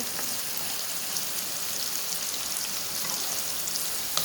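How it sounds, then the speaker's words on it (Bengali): Onions sizzle steadily in a hot pan as they are stirred for a beef bhuna, a constant frying hiss close by with no voices. "পেঁয়াজ তুলা একটু লাড়াচাড়া দিই একটু লাড়াচাড়া দিই"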